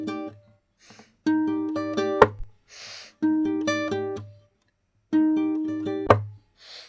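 An electric guitar plays a choppy, dark riff in three repeated phrases of short chopped chords, each ending with a sharp accent, with brief gaps and small noisy bursts between phrases, close and clear.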